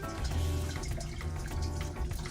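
Homemade rose water poured through a makeshift strainer, a steady trickling and splashing of liquid with a low running gurgle, close and continuous throughout.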